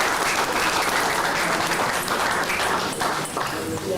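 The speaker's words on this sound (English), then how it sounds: "Round of applause for our panelists." Audience applause as panelists come on stage at a live finance event, a sustained wash of many hands clapping at an even level from start to finish.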